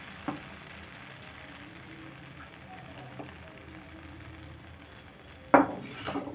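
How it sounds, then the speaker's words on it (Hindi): Homemade chicken chow mein sizzles softly in a pan as chicken is added to the frying noodles, with a sharp clatter and a louder burst of sizzle near the end. "अब हम इसमें जो है चिकन को जो है ऐड कर देते हैं"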